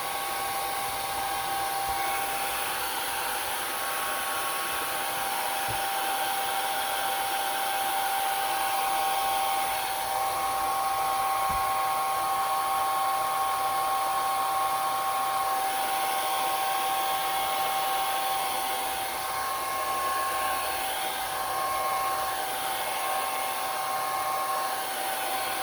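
A hot hair dryer blows steadily on an acrylic plate inside a Legends pinball control panel, a continuous close, loud whooshing hum with a faint whine, unbroken for the whole stretch with no talk.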